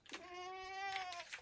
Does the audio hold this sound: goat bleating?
yes